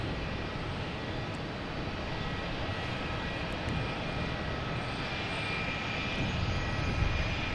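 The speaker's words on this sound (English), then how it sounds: "So we have Alaska Airlines out here, getting ready to take off, heading to San Francisco at 737-900." An Alaska Airlines Boeing 737-900 jet at Boston Logan Airport, preparing for takeoff, makes a steady, broad engine roar that holds unbroken throughout, heard from a distance outdoors with no talk.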